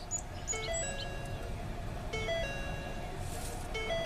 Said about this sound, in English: Turn signal left on warning chime